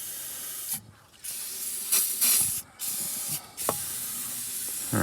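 WD-40 penetrant sprayed from a can in several short hissing bursts of uneven length, close and fairly loud, on a rusted 1947 Ford 2-ton truck, with no talk.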